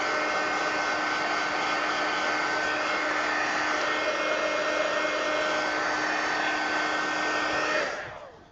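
A hair dryer blows steadily to dry paint on an adult coloring page, a loud, close, continuous whoosh with a faint whine that holds steady and then winds down at the end.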